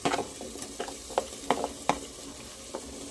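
Chopped vegetables for pav bhaji sizzle in a pressure cooker with masala, a close crackling hiss broken by repeated sharp scrapes and knocks of a spoon stirring every half second or so.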